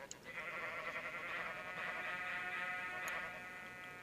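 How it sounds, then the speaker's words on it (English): Crumble horn item in the Minecraft Enigmatica 2 modpack giving a steady, wavering goat bleat that rings clearly for several seconds, with no talking over it. "It makes goat noises, go us."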